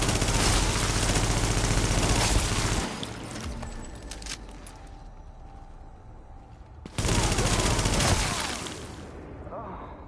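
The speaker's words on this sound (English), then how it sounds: "Shotgun, the auto shotty goes twice as fast." Auto shotgun blasting in rapid succession in The Division, a dense loud burst of gunfire for about three seconds, dropping to quieter ambience, then another loud rapid volley.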